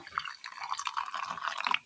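A little water poured into a mixer jar holding grated coconut, fenugreek powder and coriander powder for a fish curry paste, a brief close trickle that stops abruptly.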